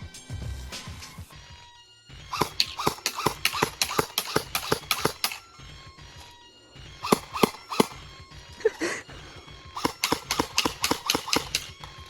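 An airsoft gun fires a rapid string of sharp, snappy pops, some single and some in quick bursts, with short pauses between volleys; close and fairly loud.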